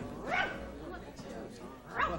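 A dog lets out two short, high whimpering yips, one early and one near the end, fairly faint and mixed with nearby voices talking.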